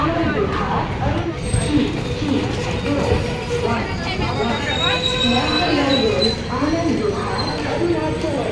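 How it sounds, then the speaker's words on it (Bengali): A passenger train sits at New Jalpaiguri station as its diesel locomotive is uncoupled, with a continuous rumble of the train and platform, faint squeals and clanks, and voices talking throughout. "এবার ট্রেনটি থেকে ডিজেল লোকোমোটিভ ইঞ্জিন খুলে নেওয়া হবে"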